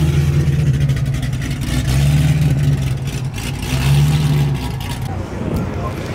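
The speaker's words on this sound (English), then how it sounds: "We got the Ferrari California rolling." A Ferrari California rolls along at a supercar show, its engine a steady, fairly loud, close rumble that swells gently a few times. Voices talk over the engine throughout.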